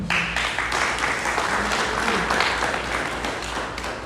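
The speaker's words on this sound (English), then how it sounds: "So another round of applause" Applause from the audience at a forensic and business institute graduation ceremony, a steady dense wash of clapping in a large hall, moderately loud throughout.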